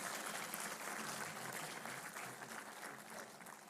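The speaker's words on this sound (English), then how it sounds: "Let's give him a big round of applause" An audience at an Indian government release ceremony applauds the chief guest, a dense, continuous patter of clapping that sounds faint and distant throughout.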